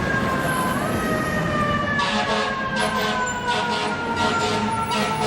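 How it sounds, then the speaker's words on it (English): A fire truck siren wails loud and steady throughout, its rising and falling tones with harmonics in the foreground, pulsing horn-like blasts joining from about two seconds on over constant traffic rumble. "the horns, the siren, there's just so many things"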